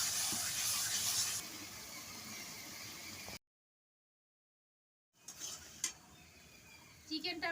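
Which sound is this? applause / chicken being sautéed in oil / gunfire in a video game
chicken being sautéed in oil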